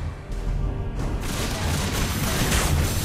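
Turret being destroyed in the Mobile Legends: Bang Bang video game, a dense crashing boom that rolls into a sustained loud rumble of debris and effects lasting a few seconds, with no voices.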